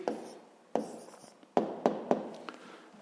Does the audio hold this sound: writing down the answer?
yes